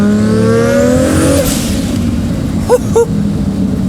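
A 750-horsepower Toyota Supra with a big-turbo 2JZ engine on a mountain road at light throttle, a loud close engine drone with rising then falling pitch and two brief chirps near the end.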